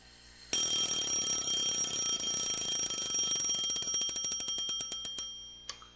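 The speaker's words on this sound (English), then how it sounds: "I shut off the alarm by reflex." An alarm clock rings in the video game Lucy -The Eternity She Wished For-. A loud, continuous electronic ring breaks into rapid pulses that slow and fade before it cuts off abruptly, with no talking.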